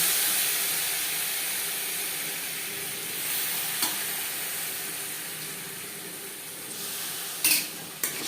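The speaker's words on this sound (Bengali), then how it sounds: "হাই ফ্লেমে আরও তিন চার মিনিট নাড়াচাড়া করে নেব যাতে পেঁপের মধ্যে মশলার একটা ফ্লেভার আসে" Papaya pieces frying over high flame while being stirred with cooked spices for a vegato-style vegetarian curry, giving a steady soft sizzle with light scraping and a few sharper clinks near the end.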